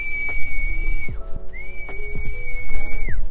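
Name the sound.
whistle blown to call pigeons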